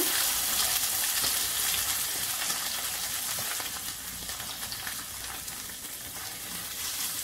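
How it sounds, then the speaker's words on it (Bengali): Tomato paste fries in oil and is stirred for tuna kabsa. A loud, bright, close crackle runs without a break and eases a little partway through, with soft stirring scrapes mixed in and nobody speaking. "নেড়ে চেড়ে তেলের সঙ্গে কিছুক্ষণ ভেজে নেব।"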